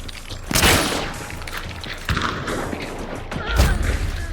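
Video game gunfire from a hunting-and-extermination shooter, with several sharp shots and thuds at irregular moments over a steady background of game ambience.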